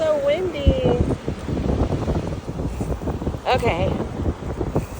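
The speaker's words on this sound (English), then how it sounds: "So windy. It's so windy." Strong wind buffets the microphone on a cold beach, a steady broadband roar throughout while a girl and an adult talk over it.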